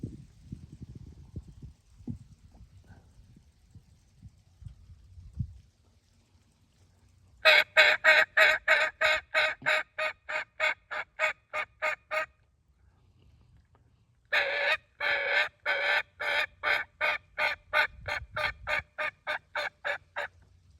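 Wild turkey gobbling back to a mouth call, heard in two loud bursts of rapid, rhythmic gobbles, each lasting several seconds, after quieter rustling and handling noise at the start.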